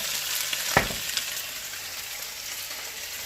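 Olive oil sizzling in a pan amid vegetables for Thai drunken noodles: a steady bright hiss close by, with a single sharp clack early on and no voices.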